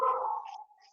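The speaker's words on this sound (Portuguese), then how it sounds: "tem uma cachorrada aqui no vizinho, então vai latir um pouquinho" A neighbour's dog gives a single bark that trails off into a short, fading whine, heard alone at moderate distance.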